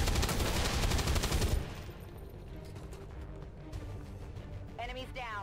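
Soldiers' gunfire in the XCOM 2 video game, a dense burst of rapid shots for about a second and a half, then quieter game ambience with a faint voice near the end.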